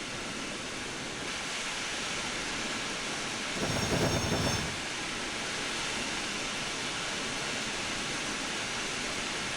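A steam train runs in Trainz Railroad Simulator 2022 with a steady rolling rumble and a louder burst of hissing chuffs near the middle, heard alone without talk.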